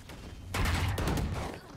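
Rapid burst of automatic gunfire from a gun in a first-person shooter video game, a dense fast rattle of shots lasting about a second, loud and close.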